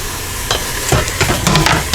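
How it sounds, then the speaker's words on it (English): Cubed pork sizzles hard in the hot base of a pressure cooker for a three-meat chunky chili, a loud, continuous crackling fry with a few stirring scrapes, close and with no talking. "A little sizzling going on there for 5 minutes or so."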